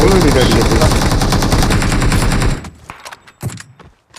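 Rapid automatic gunfire in a shooter video game plays loud and close in a dense continuous burst, then stops abruptly, leaving a few scattered shots and faint sounds.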